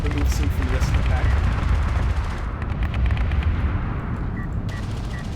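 Ships trading fire in the real-time strategy game Homeworld: Deserts of Kharak, a dense, continuous barrage of booming gunfire and artillery-like blasts heard under steady talk.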